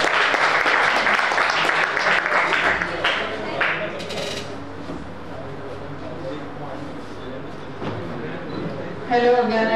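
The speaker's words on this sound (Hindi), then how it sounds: "तालियां से।" Audience applause at a school event on welfare of students with special needs, a dense, steady wash of clapping lasting several seconds, with voices mixed underneath and a brief renewed burst at the end.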